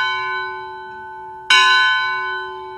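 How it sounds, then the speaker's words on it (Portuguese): Church bells ring out clearly, one sustained tolling tone decaying before a fresh strike about halfway through, with long resonant overtones and no voices. "Ao badalar dos sinos"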